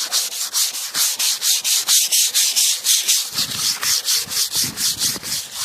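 Hand sanding with 3M sandpaper on the body of a 1988 Cadillac DeVille makes loud, close, rhythmic back-and-forth scratchy strokes, about three per second, steady for several seconds with no speech.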